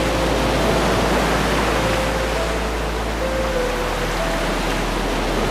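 A giant tsunami's rushing water roars as a loud, continuous broadband wash, steady and enveloping with a deep low rumble underneath and faint tonal streaks over it.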